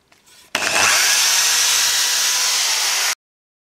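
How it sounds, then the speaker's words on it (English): A power drill bores holes into a wooden stock for a homemade air shotgun in one loud, continuous burst lasting about two and a half seconds, then stops abruptly. "I'm now just going to drill the holes in the stock for those"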